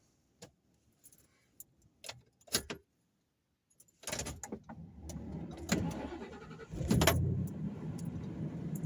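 Keys jingle in a few quick bursts, then a Ford pickup truck engine cranks, catches and settles into a loud, rough idle.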